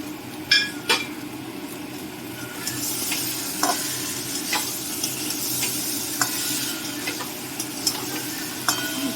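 Fried prawns stirred with spices in a pan for a prawn and potato curry. A steady close sizzle carries sharp spatula scrapes and clinks against the metal at irregular moments, and no one speaks.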